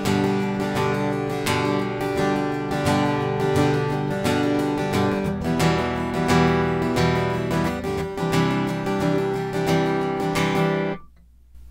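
A guitar strummed in a quick, steady rhythm of repeated chords, ringing full and close, then cut off abruptly near the end.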